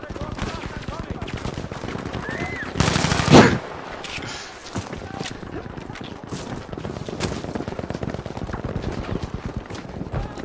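An M16A3 assault rifle fires in Battlefield 5, rapid crackling bursts of automatic gunfire repeating throughout, with a louder, denser blast of shots partway through amid game effects.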